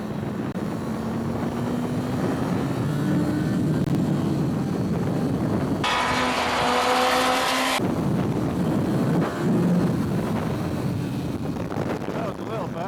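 A Kawasaki ZX9 motorcycle engine roaring steadily as the bike pulls a wheelie on a track, with a sustained rising drone, strong wind buffeting throughout and a brief sharper burst midway.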